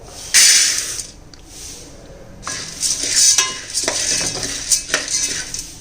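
Roasted gram (pottukadalai) being stirred and lightly dry-roasted in a pan for a homemade health mix powder, with close, bright scraping and rattling in uneven bursts and short pauses.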